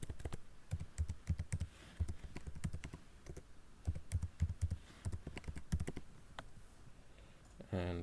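Fingers type a password on a computer keyboard during a Raspberry Pi 5 Proxmox setup, with quick bursts of close, crisp key clicks separated by short pauses, ending with a brief mouse-like click.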